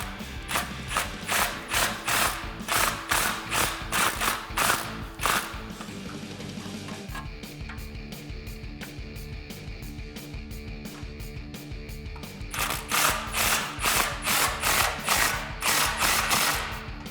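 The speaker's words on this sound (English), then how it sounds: "And using your 15mm socket, we can now tighten down our flange bolts." A ratchet with a 15mm socket tightens the exhaust flange bolts of a catted H-pipe on a 2005-2010 Mustang GT, giving fast, rhythmic clicking bursts with a pause of slower turning in the middle, loud and close.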